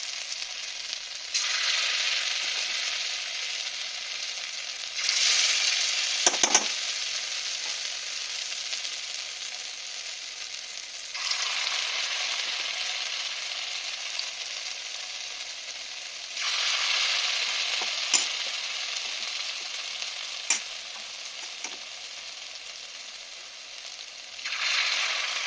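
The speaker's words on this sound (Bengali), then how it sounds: "এবার আমি ওই যে মিশ্রণটাকে ছোটো ছোটো করে বড়া আকারে ভেজে নেব" Fritters of pointed gourd, potato and chhana frying in hot oil, a loud bright sizzle that surges in waves as each spoonful of batter goes in, with occasional clinks of a spoon against the pan.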